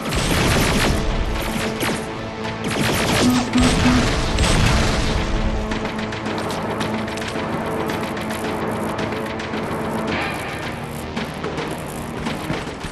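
Heavy gunfire and explosions in the Terminator Resistance game, a dense continuous barrage of booming shots and blasts, loud and close, with no talking.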